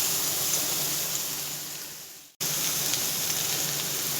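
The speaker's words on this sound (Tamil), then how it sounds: "வெங்காயம் போட்டு நல்லா வதக்கி விட்டுறலாம்" Onion, chilli and capsicum sautéing in a pan: a steady, close sizzle of frying vegetables with a brief dip and cut midway, otherwise continuous and without speech.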